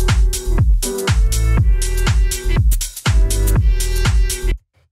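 Two hi-hat samples, one of them open, layered together in a jazzy house beat ride over punchy kick thumps and tonal stabs in a loud, looping groove before cutting off abruptly near the end, with no talking.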